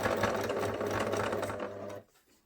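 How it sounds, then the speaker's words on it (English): A sewing machine stitching cotton fabric runs in a fast, steady whirring rattle for about two seconds, close and fairly loud, then stops abruptly into near quiet. "now we're going to sew forwards so we come off by the green pin here"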